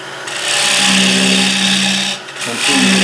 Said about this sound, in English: just start a cut with the parting tool